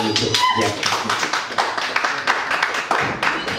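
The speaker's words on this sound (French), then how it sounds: "Applaudissements très fort, Marcel." A small group claps at a workshop presentation: irregular, fairly close hand claps and taps mixed with voices talking over them.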